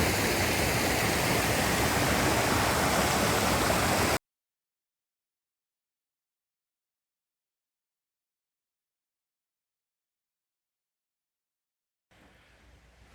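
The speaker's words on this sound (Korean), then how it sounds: "물소리 들리시죠?" Rushing water of a mountain valley stream at a campground site, a loud broadband roar for about four seconds, then a long silence before fainter water noise returns.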